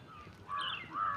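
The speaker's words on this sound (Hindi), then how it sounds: "चिड़िया चहचहा रही हैं।" Birds calling outdoors in the early morning around 6:30, a couple of faint, short harsh caws like a crow, heard at a distance over quiet background.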